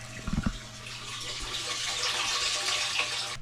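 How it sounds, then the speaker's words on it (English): A cheap Harbor Freight transfer pump moves water at an off-grid RV campsite, giving a steady, loud rushing wash that stays fairly constant throughout, with a brief low knock near the start. "we went to the Harbor Freight and just got a cheap little transfer pump."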